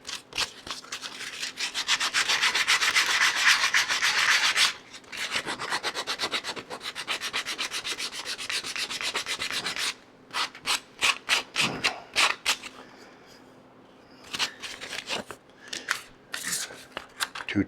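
Hand sanding a segmented wooden cocktail table top with 150 grit sandpaper on soft, almost sponge-like wood, close rhythmic rasping strokes in bursts with short pauses, no talking.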